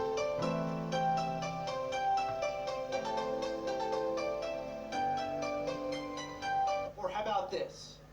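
A melodic keyboard line of clear sustained notes and chords plays steadily for most of the passage, then gives way near the end to a brief burst of brighter, noisier synth-like sound.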